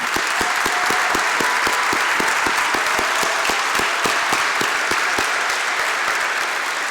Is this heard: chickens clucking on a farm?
no